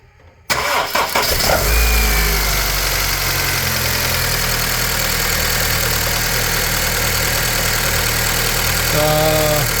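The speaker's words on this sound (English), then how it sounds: "We're going to start the car" A Honda Civic with a 1.8 VTEC engine, just back together after a VTEC solenoid gasket change for an oil leak, cranks briefly and fires up. It then settles into a steady, loud idle close by.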